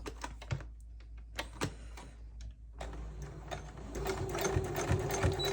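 A sewing machine stitches a fabric bowl cozy in quick rapid bursts of ticking needle strokes, with brief pauses between runs and a faint steady motor hum, close and fairly quiet.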